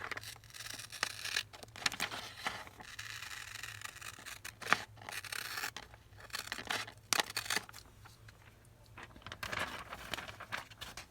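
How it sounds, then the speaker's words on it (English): A fabric strip is cut with scissors in a crafting session, making a run of soft, uneven snips and rustles at close range that rise and fall in bursts over several seconds. No voices are heard. "Now we're going to cut off this strip."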